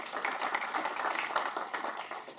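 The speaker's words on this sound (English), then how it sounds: "please clap." Applause from an audience at a tech talk in Portland, a dense steady patter of many hands clapping for a couple of seconds at moderate volume.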